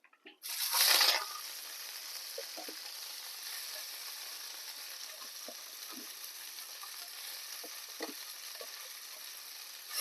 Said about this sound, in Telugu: కొత్తిమీర వేపుకుందాం